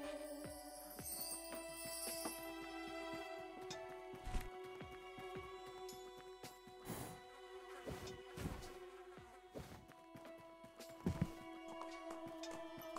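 Horse in the tavern-management video game Tavern Manager Simulator, with rhythmic hoof clip-clops and buzzing insect-like ambience running steadily underneath, faint and continuous throughout.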